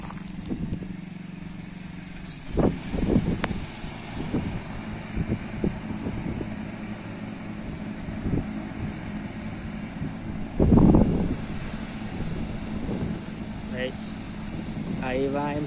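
Tractor in first gear mowing tall grass: steady low engine drone at a distance with intermittent louder thumps and rustles, under someone speaking throughout.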